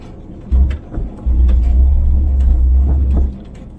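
A Ford F-100 pulled from a junkyard runs while being driven, giving a loud, deep engine rumble that starts in short bursts and then settles into a steady low drone before cutting off.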